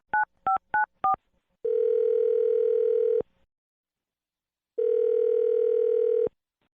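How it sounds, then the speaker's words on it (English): A telephone being dialed: four quick two-tone keypad beeps, then two long steady dial-tone blasts separated by a pause, clear, loud and close, with no talking. "I'm going to dial the phone number."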